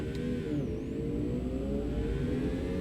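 A steady engine hum with a rising whine, like a Ford Focus RS cruising at constant revs in American Truck Simulator, sounding thin and buzzy rather than powerful.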